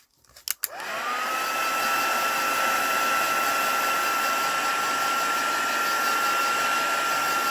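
A heat tool starts up after a couple of clicks and then blows continuously, a loud steady whirring hiss with a whine, used to warm freshly stamped ink so it sets. Nobody speaks.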